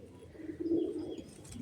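A pigeon gives a soft, low coo close by, one brief rolling call in a quiet setting.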